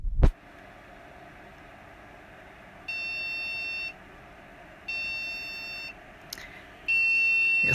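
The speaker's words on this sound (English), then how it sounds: "Yeah, I'm pretty sure that beep is there for a reason" A new HP desktop PC gives three steady electronic beeps about a second long, spaced evenly apart, over a low background hum. Nobody speaks.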